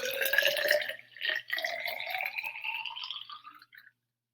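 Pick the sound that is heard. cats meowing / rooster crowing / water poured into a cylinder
water poured into a cylinder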